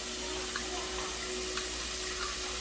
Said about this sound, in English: It's that hot tap water. So here goes. I'm going to just pour this in.